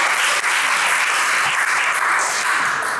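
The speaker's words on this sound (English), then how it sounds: "I noticed that she got a bigger round of applause than me." Audience applause at a lecture in the Nantucket Atheneum lecture series, a full, continuous round of clapping from the crowd, loud and steady with no voices over it.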